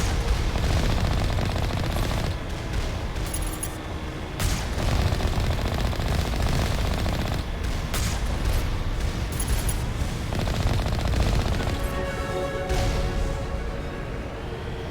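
Enemy turret firing in Mass Effect, long rapid bursts of heavy automatic fire with booming impacts and explosions, loud and nearly continuous with brief gaps between volleys.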